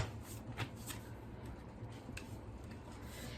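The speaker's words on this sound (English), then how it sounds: "let's pull two more cards to summarize the reading" Tarot cards shuffled by hand and drawn for a reading: a soft, continuous papery riffle and rub with a few brief flicks, close and quiet, with no talking.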